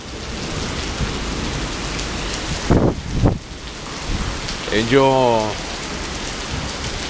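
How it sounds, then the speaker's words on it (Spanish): A heavy thunderstorm with rain and hail pounds down in Mexico City as a steady wash of falling water, while someone speaks briefly partway through. "Hay tormenta eléctrica también."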